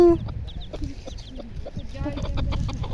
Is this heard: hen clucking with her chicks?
yes